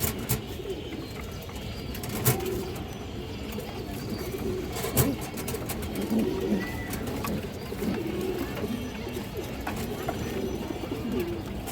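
A breeding pair of pigeons coos softly and repeatedly at close range, with low murmuring calls rising and falling against a faint background.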